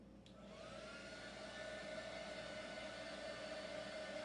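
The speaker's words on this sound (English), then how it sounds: "Let me hit this with the heat gun for just a minute." A heat gun blows hot air over a freshly painted chalkboard-style sign, a steady, even broadband whoosh with a constant motor hum that runs unbroken and close for the whole stretch, with no talking.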